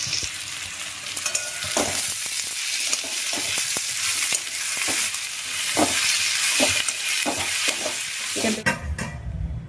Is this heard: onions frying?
yes